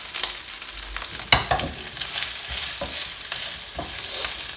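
Chicken and prawn stir fry with mange tout sizzles in a hot pan, a steady loud frying hiss broken by scraping stirs and tossing clatter, close up with no talking.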